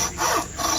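Hand saw rasping back and forth through an animal carcass's spine, two or three rough, grating strokes close by with no voices.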